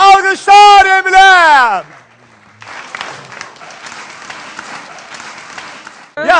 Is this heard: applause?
yes